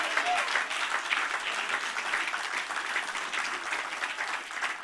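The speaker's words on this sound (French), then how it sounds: "donnons une acclamation à notre conducteur de chant" Sustained applause from a church congregation, steady and dense throughout, with some cheering mixed in.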